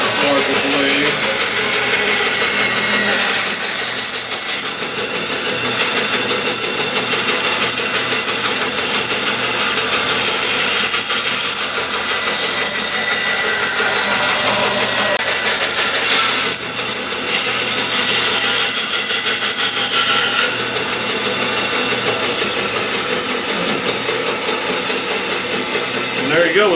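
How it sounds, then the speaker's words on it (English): A bandsaw cuts round shapes from wood, a continuous loud whine and rasp of the blade running through the stock for nearly half a minute, with small shifts in pitch as the cut turns. "I'm going to use a bandsaw to cut out these round shapes"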